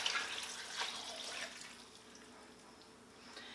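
Poultry bone broth poured from a quart jar into a cooking pot, a soft, steady liquid splash, louder at first and then trailing off into a quieter, thin trickle.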